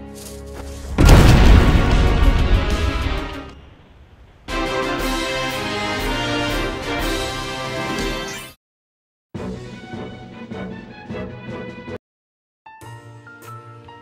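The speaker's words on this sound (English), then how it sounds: "you meet ones that blow up in ice explosions" Loud video-game explosion booms from self-destructing enemies bursting in ice, with icy, glassy tinkling, coming in several separate bursts broken by short silences.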